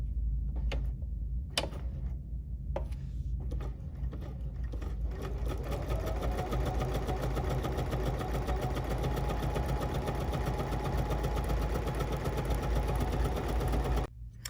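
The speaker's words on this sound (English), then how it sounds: "now we're just going to stitch following the line" A sewing machine stitches fringing along a marked line on an embroidery sampler block, running in a steady, loud, fast mechanical whir with rhythmic ticking that goes on almost the whole time after a few short starts.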